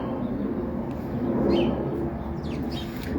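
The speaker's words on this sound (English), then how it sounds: "My birds are super happy today because I got them the fruit and" Pet birds coo softly in a garden, a steady low murmur with a few faint chirps above it, close by and continuous with no talking.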